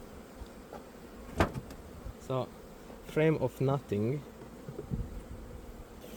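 Honey bees buzz at a weak hive colony with few bees, which is being boosted with a new queen. A steady, close, low drone of wings runs throughout, and a person talks over it in short phrases.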